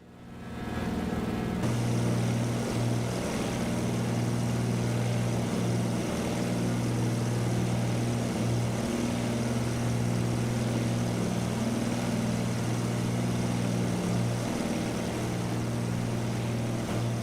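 A propeller plane taking off in Microsoft Flight Simulator, its engine holding a steady, loud droning hum with tonal buzz throughout, continuous and close with no speech.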